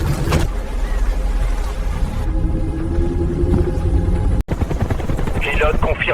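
A helicopter drones with a steady, loud rotor rumble that continues throughout, with a brief sharp break partway and a dense low roar behind.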